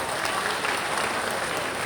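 Dense, steady applause from an audience at Thawe Mahotsav, a festival in Gopalganj, Bihar, welcoming the state tourism minister; many hands clap continuously and loudly throughout, with faint crowd murmur beneath.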